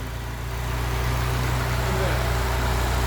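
A Datsun 510 four-cylinder engine runs steadily on all cylinders with a constant low hum and drone, heard up close and continuous throughout.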